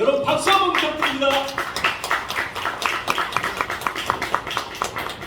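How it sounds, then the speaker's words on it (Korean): Audience clapping at a Korean party convention, a burst of applause with scattered claps that thins out over a few seconds, while a voice speaks over the start. "여러분 박수 한번 부탁드립니다."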